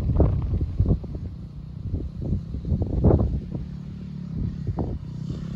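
Small dirt bike ridden by a kid on dirt and grass with a hard rear tire, its engine buzzing in uneven bursts as it revs and eases off, mid-distance, with wind noise.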